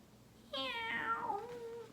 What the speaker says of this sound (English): That was only the cat.